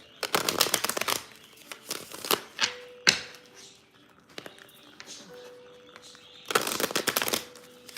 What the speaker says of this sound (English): let me just shuffle this deck real quick